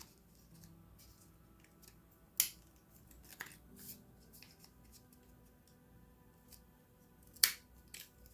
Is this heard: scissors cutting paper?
yes